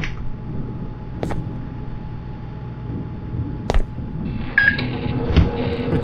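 A microwave oven in the Do Your Homework video game: a low steady hum, a couple of sharp clicks as it is set, then a short electronic beep, all fairly close, with no talk.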